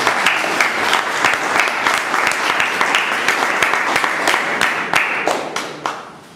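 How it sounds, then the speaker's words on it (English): A meeting audience gives a round of applause for a speaker: loud, close clapping with crisp individual claps standing out, steady for about five seconds before tapering off and dying away. "Let's give him a round of applause."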